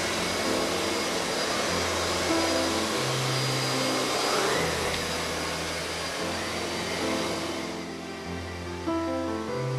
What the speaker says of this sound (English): Depending on the flooring, suction power is adjusted automatically.